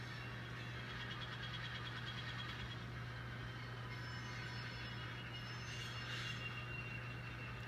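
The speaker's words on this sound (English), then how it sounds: "We'll come in here and hook up to the gondola." An N scale model locomotive rolls into a gondola car to couple up, a faint steady motor hum running low and continuous with a light rattling texture throughout.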